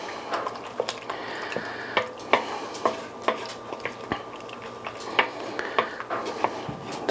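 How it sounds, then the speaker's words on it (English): A spoon scrapes and knocks around a pot of New Mexico red chile pork carne adovada, giving irregular close metallic clinks and wet stirring sounds over a faint simmer. "let's give this a stir"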